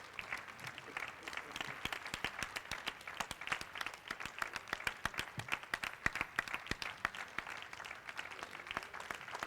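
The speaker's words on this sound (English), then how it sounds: "Yes, you can stand and applaud her" An audience at an environmental justice conference applauds an award winner, with sharp, rapid claps in a fairly regular rhythm from a crowd standing nearby, sustained and lively throughout.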